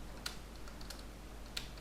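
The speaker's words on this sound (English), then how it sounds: "shift plus down arrow key to select downward" Computer keyboard keys tapped while selecting text with shift and arrow combinations: three or four sparse, light clicks spaced apart over a steady low hum, faint and close, with no talking.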